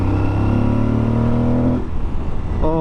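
An Aprilia Tuareg 660 motorcycle engine revs loudly and close, a steady harmonic drone that holds then drops off suddenly before a brief rise in pitch near the end.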